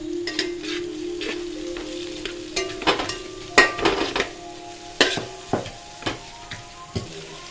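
Onion, dried and green chillies, curry leaves, ginger and garlic sizzle in oil as tempering for a fig thoran; a steady soft fry runs under sharp intermittent clinks and scrapes of stirring.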